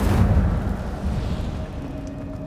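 An Incendio fire spell in the Hogwarts Legacy game bursts out as a deep whooshing boom that swells at the start and then fades into a low rumbling roar.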